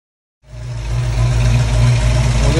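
A Ford Mustang engine, freshly fitted with new valve springs and roller rockers, starts after a short silence and settles into a steady, loud, close idle with a low rumbling drone.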